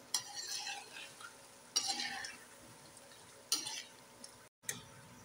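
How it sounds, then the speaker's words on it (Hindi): Mutton kebab mixture stir-roasted in a pan, with bursts of hissing sizzle and spoon scraping at intervals, quiet in between and faint room noise. "अब आपकी बुनाई हो रही है"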